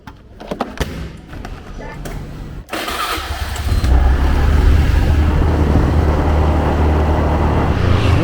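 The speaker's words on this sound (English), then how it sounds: "I'll take the scooter" A scooter engine cranks and catches, then settles into a steady, rumbling idle close by, after some brief clicks and handling noises, in Cambodia during hot season.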